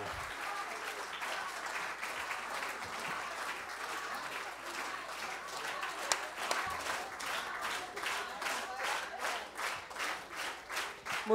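A concert audience in Rio de Janeiro claps steadily throughout, a dense wash of applause that grows into rhythmic unified clapping toward the end, with faint voices mixed in.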